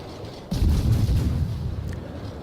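Naval guns fire in a warship battle game, a sudden heavy boom followed by a sustained low rumbling roar that slowly fades.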